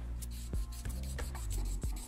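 Acetate guzheng fingernail sanded with the sandpaper side of a nail file, close, repeated rasping strokes in an uneven rhythm with sharp scraping accents, no voices.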